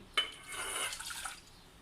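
Water poured from a cup into a pan to make jelly: a brief clink, then a short splashing, bubbling pour that quickly tapers off, close and fairly quiet.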